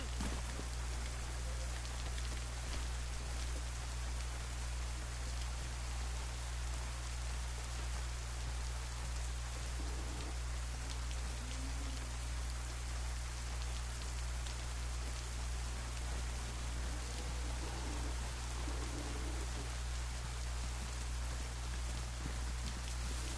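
Steady rain falls in the survival game DayZ, set in Livonia, a soft continuous patter of drops on surfaces heard quietly under a constant low hum, with no voices.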